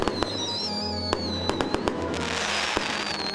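Fireworks bursting at an outdoor display, a series of sharp crackling bangs and pops spread unevenly over a few seconds, some near and loud, with whistling tones rising between them.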